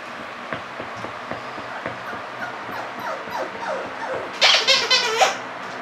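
A puppy yips, whimpers and barks close by in a home, with small rhythmic whines building to a louder burst of yelping near the end, and no talk over it.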